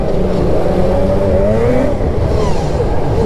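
Starfire 862cc Indy Specialties long-rod stroker snowmobile engine revving under throttle, running on heavy premix with a slight bog, a loud, continuous, close engine roar with rising pitch and no talk.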